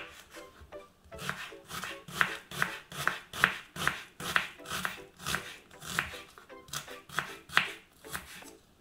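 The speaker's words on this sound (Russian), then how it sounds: "лук лучше нарезать помельче" A knife finely chops an onion on a wooden board, about twenty quick even strikes in a regular rhythm, close and crisp, with no talking.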